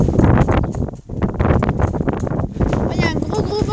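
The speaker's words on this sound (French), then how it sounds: "Il y a un gros vent, les gens, très forte rafale de vent qui arrive." Strong wind gusts during a thunderstorm roar into the microphone as loud broadband buffeting that swells and dips throughout, with a person talking over it.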